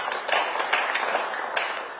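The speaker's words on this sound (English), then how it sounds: "Can we have a huge round of applause for that," Audience applause at the KSCA Maharaja Trophy T20 official press conference, a steady, moderately loud patter of many hands clapping together with a few crisper individual claps standing out.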